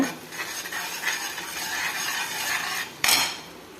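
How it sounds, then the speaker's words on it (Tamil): Ground masala paste sautéed in a pan, a steady scraping and stirring sizzle with light utensil clinks throughout, then a sharper louder scrape near the end; no voices. "இந்த அரைச்ச பேஸ்ட்டை போட்டுக்கிடுங்க ரெண்டு நிமிஷம் நல்லா வதக்கிக்கிடுங்க"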